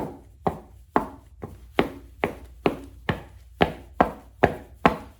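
Nike Romaleos 4 weightlifting shoes with a hard TPU knife-edge heel clack sharply on the floor in a steady series of about ten close, loud steps over a low room rumble.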